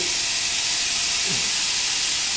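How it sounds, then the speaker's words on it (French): Minced beef browns in a frying pan for homemade lasagne, giving a loud, dense, steady hiss of sizzling fat that fills the whole moment without a break and with no voices. "on va faire revenir notre viande hachée"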